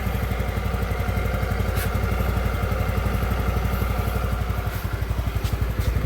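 Honda Callisto 125 motorcycle engine running steadily at idle after a clap-style modification, a close, continuous rhythmic putter with a fast even firing pulse and a few faint clicks, no voices.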